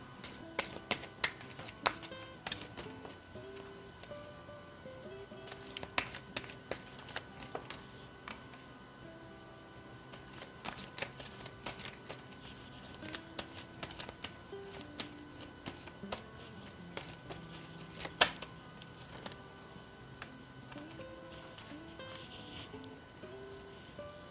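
Tarot cards shuffled by hand, quiet crisp riffles and taps in irregular bursts, close and soft, with no voice.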